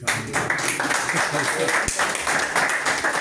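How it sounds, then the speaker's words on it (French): Training participants in an office meeting room in Cameroon applaud themselves, scattered clapping running throughout with talk and voices mixed in. "Vous pouvez vous applaudir"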